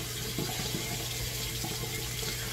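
A tap runs into a sink in a steady, moderately close stream of splashing water, constant for the whole moment with no voices.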